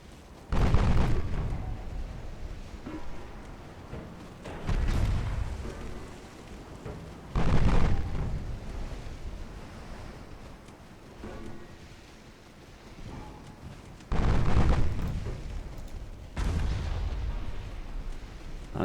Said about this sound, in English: Nice, another torpedo hit.